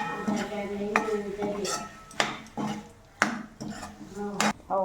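Soybean chunk curry being mixed in a pan, with a spoon clanking and scraping against the metal in uneven bursts, close up, with brief quiet gaps between strokes and no talking.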